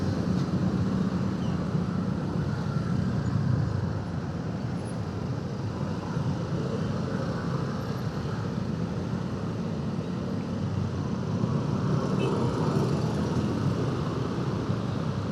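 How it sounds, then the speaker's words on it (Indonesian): Heavy jammed traffic in Jatinegara, Jakarta, heard from a motorcycle as a dense, constant roar of engines and road noise, loud and close, with no clear voices over it. "Ini hari ini macetnya parah nih di Jatinegara nih"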